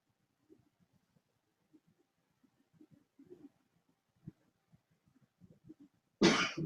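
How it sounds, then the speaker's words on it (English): A single loud, close cough bursts out at the end of a quiet mindfulness session, after a stretch of faint scattered murmurs and small room noises. "even if you have a coughing, it's okay"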